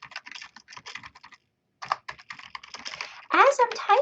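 Typing on a computer keyboard while filling in an online citation form, with quick bursts of close key clicks separated by a brief pause, and a voice speaking over the final stretch.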